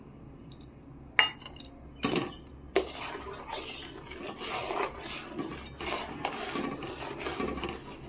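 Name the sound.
stirring milk skin cream into thickened milk for rabri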